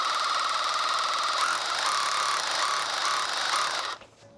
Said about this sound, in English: My concern is if I'm using this hammer drill, it's going to shake the brick out of position